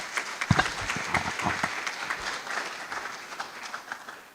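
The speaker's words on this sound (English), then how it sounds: "Can we give him another round of applause?" An audience at a public forum on the cost of repair claps after a speaker, opening with a few sharp close claps that settle into scattered, fading applause.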